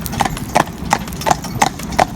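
A horse is trotting on a public road in traffic, its hooves clip-clopping in a steady, even rhythm of sharp, close strikes with no voices over them.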